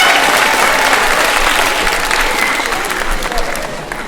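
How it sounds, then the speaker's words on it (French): An audience at a student awards ceremony in the Limoges opera house claps in a sustained, even burst that stays full and slowly eases off. "On applaudit, s'il vous plaît."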